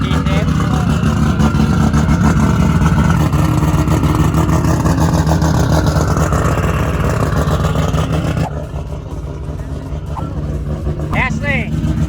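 A Nissan GT-R kept in original, very well-preserved condition, its turbocharged engine running with a steady, loud rumble throughout while people talk over it nearby.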